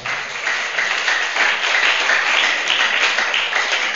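An audience at a Christmas church gathering applauds in a steady, dense wash of clapping that holds at an even level for the whole stretch, with no voices standing out.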